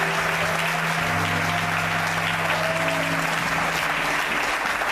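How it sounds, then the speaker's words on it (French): Sustained applause from a church congregation, a dense, steady wash of clapping filling the whole stretch at fairly loud, even level with no pauses. "Est-ce qu'on va acclamer cette fois ici?"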